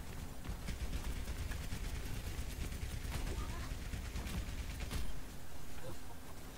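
Gunfire in the video game Overwatch, played on Nintendo Switch, comes as dense, rapid bursts of shots layered over a constant wash of loud game noise, with one heavier blast near the end.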